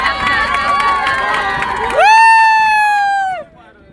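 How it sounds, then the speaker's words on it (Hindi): A large crowd gathers at the Rajrappa temple, making loud, dense cheering and shouting, then one long drawn-out call rises above the din before it fades. "बड़ा भीड़ लागल बा वहाँ पर"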